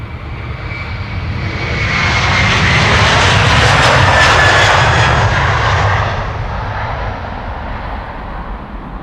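A fixed-wing airliner, about nineteen years old, departs Amsterdam Schiphol Airport on a sunny day, its engine roar swelling to a loud peak mid-pass and then easing off, steady and continuous with no talk.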